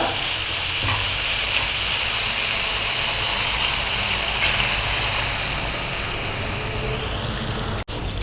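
Milk being poured into a hot pan of chicken pasta, with a steady loud sizzle and hiss of steam throughout, easing slightly near the end before a brief sharp click.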